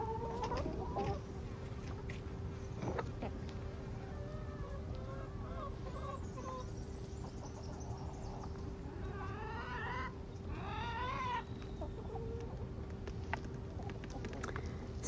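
Chickens cluck and squawk in a freshly cleaned coop, with scattered calls and bursts of louder cackling over a steady low hum, fairly faint and close.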